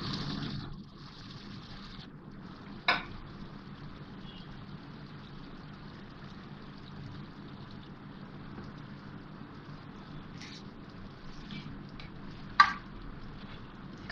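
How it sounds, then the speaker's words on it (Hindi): Kebabs sizzle and fry in a pan of beef masala, a steady low crackle punctuated by a few sharp scrapes of stirring, with no talking. "अब मैं इसमें कबाब डालूंगी, इस तरह से इसमें ये कबाब रख देंगे।"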